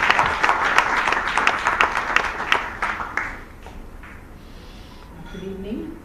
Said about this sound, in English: please join me in extending a warm and enthusiastic welcome with a huge round of applause